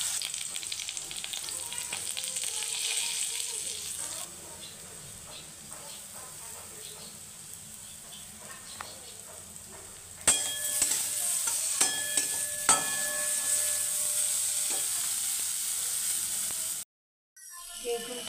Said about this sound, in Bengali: আর এখন আমি প্রথমে বেগুনটাকে ভেজে নেব। নুন হলুদ দিয়ে বেগুনটাকে ভেজে নামিয়ে রাখবো।